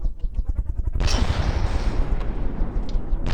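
Artillery guns fire in the naval combat game From the Depths at roughly 100 rounds per minute. A quick run of rhythmic booms gives way to a loud, continuous roar of overlapping blasts, with no voices.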